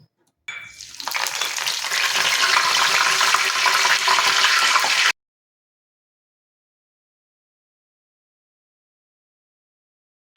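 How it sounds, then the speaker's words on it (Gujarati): Loud, steady sizzling of curry leaves frying in hot oil for thick poha chevdo, a dense crackling hiss lasting several seconds before cutting off abruptly into silence. "મીઠા લીમડાના પાન લીધા છે એ પણ આપણે અહીંયા તેલમાં તળી લઈશું"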